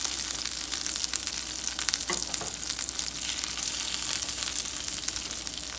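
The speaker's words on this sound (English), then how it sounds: "getting super hot before you put the tuna in" Ahi tuna steaks sear in a very hot pan, giving a steady, loud close-up sizzle and crackle throughout with a brief louder burst near the middle; no one speaks.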